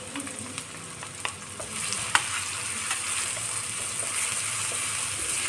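Garlic frying in hot oil for a prawn dish, a steady close sizzle with occasional stirring clicks and scrapes throughout.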